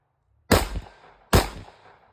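Two sharp, loud gunshots from a Smith & Wesson M&P 5.7 pistol fired outdoors at a range, spaced under a second apart, each with a quick decaying echo tail and no talking.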